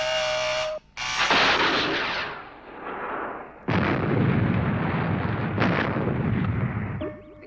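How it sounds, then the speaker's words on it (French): An interceptor spacecraft exploding in the 1962 TV series Fireball XL5: a loud, roaring blast with rumbling bursts that swell and sustain, preceded by a brief tone and a sharp cut. "L'intercepteur a explosé avant d'atteindre la cible."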